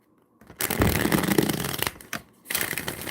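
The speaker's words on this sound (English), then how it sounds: "Do one more shuffle." Tarot cards being shuffled by hand, a close, crisp riffling and papery flutter that runs for over a second, pauses briefly, then resumes in a second burst.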